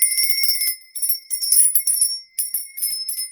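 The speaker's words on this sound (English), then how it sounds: "I'm going to be ringing this lovely bell." A bell rung to cleanse the air gives bright, high metallic rings in quick repeated bursts with short gaps, close and fairly loud, with no voices over it.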